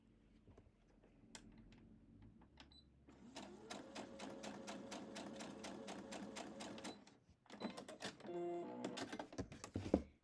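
A sewing machine stitches quilt block pieces in two runs: a steady rapid needle rattle for several seconds, a short pause, then a second louder burst of stitching, close and with no talk.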